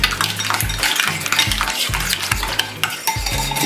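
Coleslaw being mixed with black pepper in a bowl, loud close rhythmic clinks and wet scraping strokes repeating every half second or so, with no talk.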